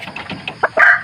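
A red Kelso-bloodline rooster crows, a short rising call near the end following a few softer clucks and grunts, close and fairly loud.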